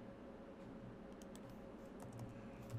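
Code is typed on a computer keyboard in a quiet room: soft, rapid key clicks come in short irregular runs over a low steady hum, faint and close, with no talking.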